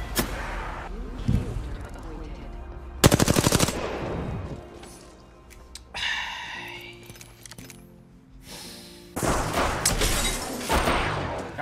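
Gunfire from the video game Apex Legends, with rapid bursts of automatic shots and a sharp burst around three seconds, mixed with game effects while a person talks over it.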